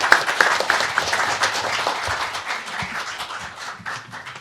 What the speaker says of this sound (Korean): 그럼 박수로 환영해 주시면 감사하겠습니다.